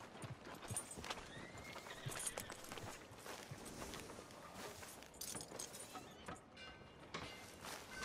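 Horse hooves clip-clopping at a walk with a whinny in Red Dead Redemption 2, irregular clopping beats and jingling tack, fairly faint and distant throughout.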